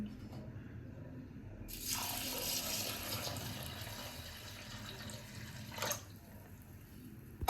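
Water pours steadily from a tap over two cups of small sago pearls (sabudana) to soak them, a continuous gushing splash lasting several seconds with a brief clatter near the end, fairly quiet and without talk.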